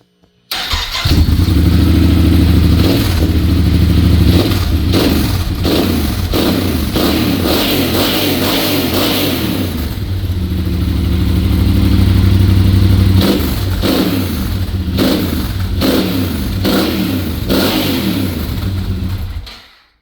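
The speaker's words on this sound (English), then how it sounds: "I will turn my bike on, and you can listen to the sound and see, and you can hear the engine and the exhaust and all that." An adventure motorcycle engine starts and idles, its exhaust rumbling loud and close, then revs repeatedly in bursts, rising and falling throughout before cutting off at the end.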